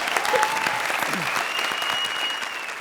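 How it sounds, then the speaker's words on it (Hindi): Loud, steady applause from a studio audience at a televised comedy show, continuous clapping that fills the whole stretch without letting up. "हमारी गेस्ट जोड़ी के साथ जुड़ी हुई सुपरस्टार प्रिया के लिए जोरदार तालियां।"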